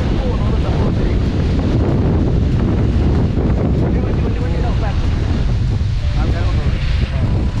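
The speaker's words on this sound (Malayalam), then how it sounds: "കാറ്റാണ്, നല്ല കാറ്റുണ്ട്." Strong wind at the seashore in Dhanushkodi, Tamil Nadu, makes a loud, steady roar that buffets the microphone, with surf washing underneath throughout.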